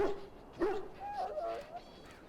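A dog in the Dragon Age Origins video game lets out a short bark followed by high, wavering whimpers and whines, close and fairly soft, with no talking.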